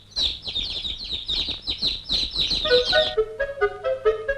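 Sparrows chirp in quick overlapping bursts, busy and bright, followed by a few clearer tonal calls, fairly close.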